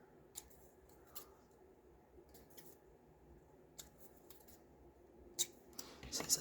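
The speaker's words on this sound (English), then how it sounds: "Cut those corners off here." Scissors snip the corners off pieces of paper ephemera. A handful of sparse, faint, crisp snips are spaced out in a quiet room, and a few quicker cuts come near the end, with no one talking.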